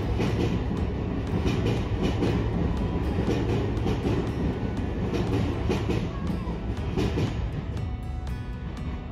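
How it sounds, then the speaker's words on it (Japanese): An Oimachi Line express train rushes past close to the station at Futako-Tamagawa with a loud, steady roar and rattling wheels that fill the whole clip without letting up. "なので大井町線の急行列車はこのように駅の間近を通過していきます。"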